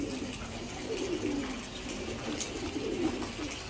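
Giribaj pigeons, a special pedigree racing line, coo in a low, steady, rolling murmur that runs continuously through the clip at close range, with no voices over it.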